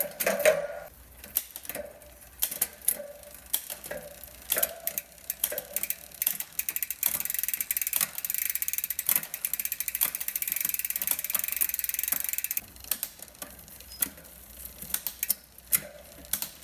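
A bicycle rear derailleur tested after adjustment, shifting through its gears: repeated close, crisp ratcheting clicks and whirring chain and gear noise from the spinning drivetrain, steady for many seconds.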